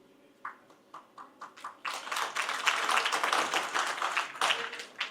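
A few scattered claps start from an audience and quickly grow into a full round of clapping that holds steady, moderately loud and without speech.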